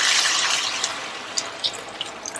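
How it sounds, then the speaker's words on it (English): Water is poured into a pan of prawn curry with tomatoes and peppers: a bright, steady gushing stream that tapers off into faint drips and splashes, close up and with no talking. "I'm just going to add some more water,"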